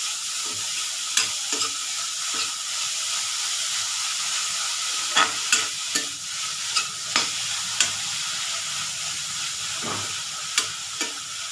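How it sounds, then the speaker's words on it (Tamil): Grated carrots frying in a pan while being made into payasam, a steady close sizzle broken by repeated sharp spoon taps and stirring scrapes against the pan. "கேரட்டை கொஞ்சம் வறுத்து எடுத்துக்கலாம்."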